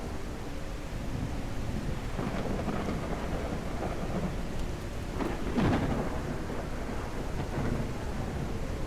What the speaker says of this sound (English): Torrential downpour is coming.